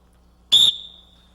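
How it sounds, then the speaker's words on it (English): One short, sharp blast on a dog training whistle, a loud, piercing high tone that cuts off quickly and leaves a faint ringing tail in an otherwise quiet room. "One single blast on the whistle will mean sit."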